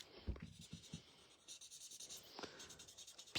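An alcohol-based Stampin' Blends marker colouring on card stock, close up, with soft squeaky strokes and scratchy dabs in short bursts, fairly quiet, no talking.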